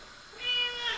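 A house cat gives a single drawn-out meow, close and fairly clear against a quiet room.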